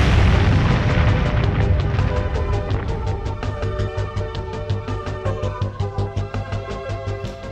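A big booming explosion effect for an exploding high five, one loud blast at the start whose rumble decays over several seconds into a fluttering, repeating tail.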